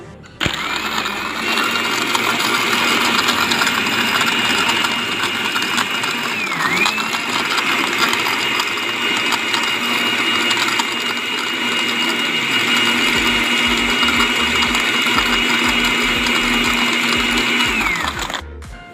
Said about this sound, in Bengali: ব্লেন্ডার করব।